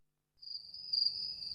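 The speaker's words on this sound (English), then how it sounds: "Cricket sounds." A cricket chirps a steady, continuous high trill that starts after a short silence and runs on without a break, clear and alone with no voices.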